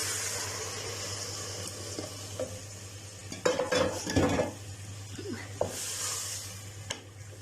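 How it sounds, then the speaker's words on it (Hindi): Three cups of water are poured into a hot cooking pot of lobia masala, briefly hissing and splashing midway, amid soft utensil clinks and a steady low hum. "और अब मैं 3 कप जो है वो इसमें पानी डालूंगी"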